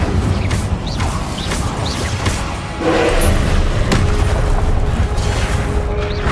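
A fire spell cast in Hogwarts Legacy, heard as a dense burst of whooshing flame over a busy clatter of combat booms and thuds, loud and continuous with a sharp rise in intensity midway.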